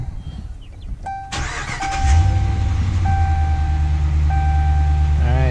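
2016 RAM 1500 with a 5.7L Hemi V8 cranking and starting after an oil change, a chime beeping, then the engine catching with a loud burst and settling into a steady, deep idle.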